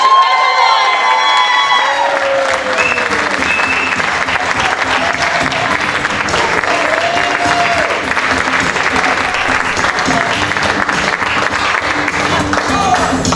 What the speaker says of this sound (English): Give him a nice big round of applause.